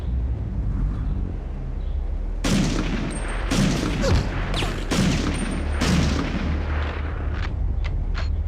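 Gunfire in the video game Medal of Honor: Underground, several loud sharp bursts and booms in quick succession over a low rumbling background, with no talking.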